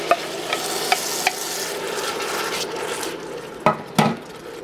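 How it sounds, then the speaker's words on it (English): A spoon stirs crushed tomatoes into a soup pot on the stove, wet scraping swirls with several sharp knocks against the pot rim, the last two louder, over a steady background hiss. "So next we stir in our crushed tomatoes."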